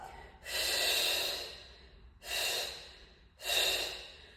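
Three long, airy breaths during a Pilates exercise, steady and close, each one swelling and fading with short pauses between.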